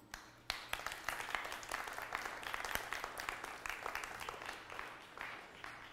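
Audience applause, a sustained burst of dense, crackling handclaps at moderate distance that holds steady for several seconds before easing slightly, with no talk over it.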